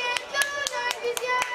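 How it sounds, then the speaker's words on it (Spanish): A handful of separate hand claps at a Christmas gathering, about six sharp claps spaced unevenly and fairly close, with no voices over them. "Ahora sí, un aplauso."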